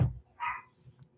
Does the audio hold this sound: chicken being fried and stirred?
no